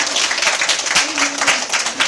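An audience claps steadily for a storyteller on stage, a dense, loud wash of applause lasting a couple of seconds with no talk over it.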